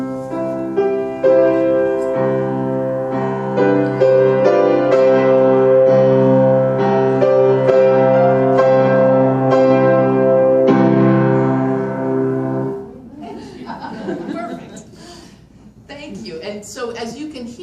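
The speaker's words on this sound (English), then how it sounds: "demonstrate softer to louder as you play on the" Piano played at a first concert, a sustained passage of layered notes and chords that holds strong for about thirteen seconds before giving way to a noisier, broken-up stretch with scattered tones.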